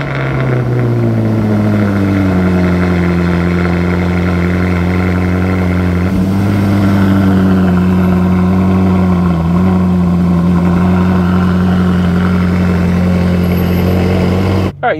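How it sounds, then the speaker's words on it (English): A Ferrari California engine runs steadily and loudly with a deep, continuous drone. It holds the same pitch and level throughout, which reads more as idling or cruising than as a start-up. "let's hop in it and take it for a spin"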